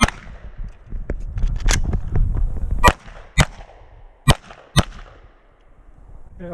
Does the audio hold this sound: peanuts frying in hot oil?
no